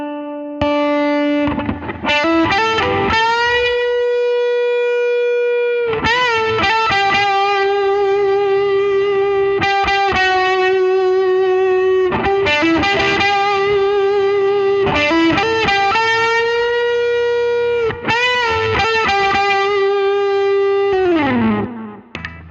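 Electric guitar playing sustained notes and chords through a pedal with Polyverb reverb and delay, a wash trailing each phrase; loud and continuous, no voices.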